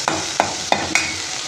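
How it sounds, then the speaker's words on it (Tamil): Four quick, rhythmic scraping stirs in a pan where tomato cooks over a steady sizzle, close and clear with no voices. "தக்காளி வேகட்டும் நல்லபடியாக."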